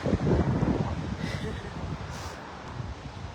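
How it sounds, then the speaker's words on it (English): Strong wind buffets the microphone in a steady low rumble with gusting swells, loud and close throughout, no voices heard. "It's pretty windy"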